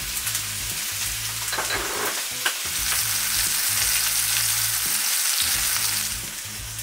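Veal shanks for ossobuco sear on a Vitogaz gas grill in winter, a loud, steady frying sizzle with crackle, joined by a low humming drone from the grill burner, with no talking.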